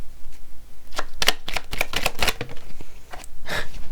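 Tarot cards drawn from a deck and laid down, a run of sharp papery snaps and slides at an uneven pace, close and clear with no talking.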